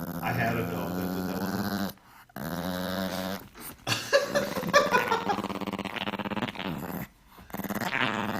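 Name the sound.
dog growling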